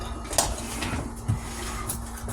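A spoon stirs a homemade mixture in a bowl, a couple of short, close clinks and scrapes over a steady low hum.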